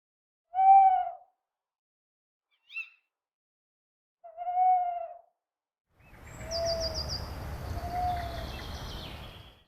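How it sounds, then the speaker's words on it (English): An owl's twit-twoo call in an Unreal Engine 5 ambient scene: two hollow hoots with a brief sharp twit between them, clear against silence, then a wider outdoor ambience with higher bird chirps and more soft hoots. "So the twit is randomly played first, followed by the twoo, which is randomly played after."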